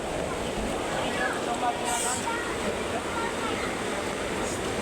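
Floodwater rushes loudly and steadily through Barangay Sapang Bato in Angeles, a broad continuous roar close by with no pauses for the whole stretch.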